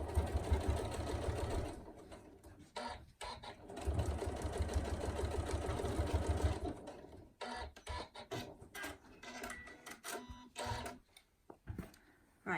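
A sewing machine stitches a short run of about two inches across a fabric tool wrap, a steady close whirring burst followed by quieter handling sounds and brief stops.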